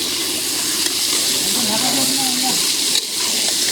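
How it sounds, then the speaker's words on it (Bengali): Chicken being sautéed and stirred with a spatula in a village kitchen, a broad loud hiss of frying with faint scraping in the middle, steady throughout. "বাবন খুন্তি দিয়ে নাড়ছে।"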